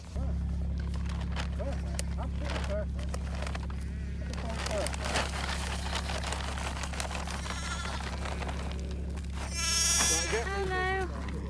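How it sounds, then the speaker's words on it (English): Sheep on a farm during lambing season bleat over a constant low hum, with scattered clicks and shuffling, and one loud, wavering bleat rises up close near the end. "looking for any sheep that might have gone to be secluded to lamb"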